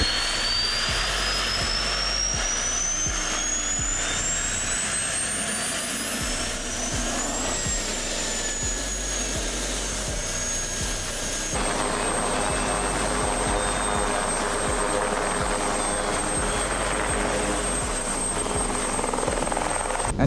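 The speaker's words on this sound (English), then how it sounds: "Powered by a modified Solar T62 turbine engine" A Helicycle ultralight helicopter powered by a modified Solar T62 turbine engine whines loudly with a high rising turbine tone over a throbbing rotor chop, the pitch climbing then settling into a steady scream.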